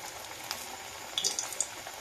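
Onion fritters frying in hot oil in a wok make a continuous bubbling sizzle, with a few brief crackling spits as pieces go in.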